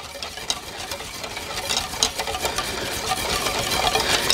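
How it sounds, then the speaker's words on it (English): Melted butter being stirred in a pan for a raspberry meringue pie filling, giving a soft, continuous scraping and sizzling texture with irregular clicks and brushes of the spoon, close and moderately quiet. "So give that a bit of a stir around."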